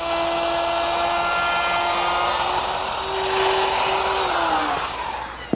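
A router spins at a steady high whine, cutting a dado for the middle shelf in a wooden armoire entertainment center, loud and close; pitch dips under load as the bit runs along the guide, then winds down at the end.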